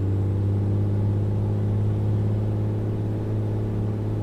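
Bonanza A36 turbo engine in a flight simulator game spooling up on the ground, a steady low droning rumble held at constant level without talk.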